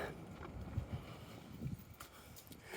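Wind buffets the microphone while walking along Gottingen Street, with low, uneven gusty rumbles rising and falling throughout and no voices.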